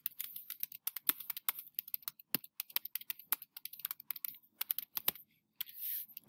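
Rapid clicks of typing on a computer keyboard, irregular bursts of keystrokes with brief pauses, close and clear, with a short rustling near the end and no speech.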